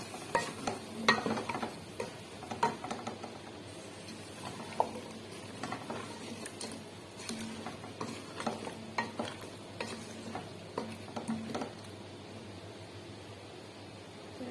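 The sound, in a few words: frying potatoes in a pan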